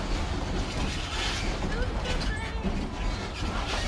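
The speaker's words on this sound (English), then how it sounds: "how is the choo-choo train?" Small choo-choo train ride in Maui, Hawaii: a steady, loud rumble and rattling of the cars runs throughout, with a brief squeak mid-ride and no clear voices.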